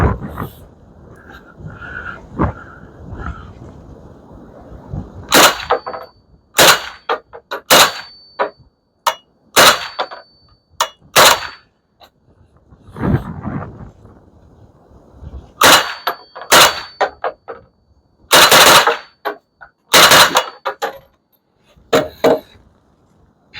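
Shots from a suppressed AK-47 rifle fitted with a KNS adjustable piston fired outdoors, a series of sharp loud reports in irregular bursts with metallic clangs between them, close and echoing.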